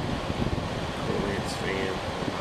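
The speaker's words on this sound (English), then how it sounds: "Corsair fans on high, you can even hear them run" Corsair computer case fans run at high speed, giving a steady broadband whoosh with a soft low rumble, heard close under a voice.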